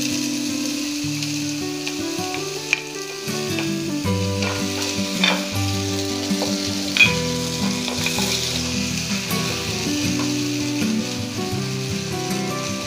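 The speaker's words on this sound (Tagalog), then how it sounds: "At kapag mainit na yung ating oil, unain natin yung ating onion." Onion sizzling and frying in hot olive oil in a pan for a tomato cellentani pasta, a steady loud crackle with occasional stirring clinks, with no talking.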